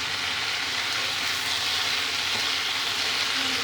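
Ridge gourd and potatoes fry in a pan with a steady, close sizzle and faint occasional stirring, with no talking.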